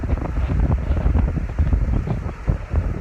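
Strong wind rushes and buffets through an open car window during an evening drive near a beach, a loud, close, gusty roar with low thumping rumble, alone without talk.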